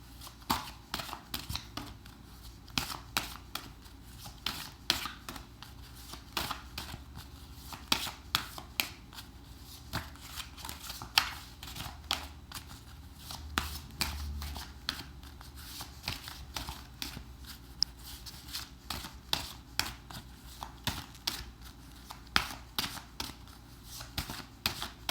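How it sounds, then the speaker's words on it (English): Tarot cards are shuffled by hand in a steady stream of close, crisp riffling and slapping bursts that keep going for the whole stretch, with no talking. "And for those of you who enjoy the shuffling like I do,"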